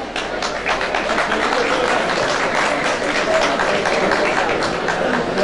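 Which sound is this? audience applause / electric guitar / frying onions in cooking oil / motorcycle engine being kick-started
audience applause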